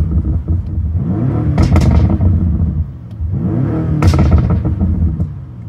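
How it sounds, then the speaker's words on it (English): A BMW M5 Competition exhaust revs up twice, rising to a loud roar each time before dropping back, close by with no talking. "if I was to give you a bit of a rev, you can have a listen to how this exhaust sounds"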